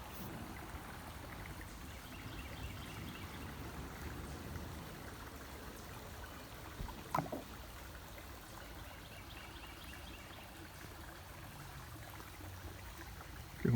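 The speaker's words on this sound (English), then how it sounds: "Oh, there's a little tiny waterfall. That's what that is. I know I heard water running." A small trickling waterfall outdoors, with a steady, soft rush of flowing water throughout and a few faint bumps partway through.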